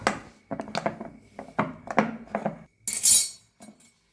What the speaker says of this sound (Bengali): এবার ভালো করে ভিনিগারের সাথে ওপর নিচ একটু মিক্সড করে নেব।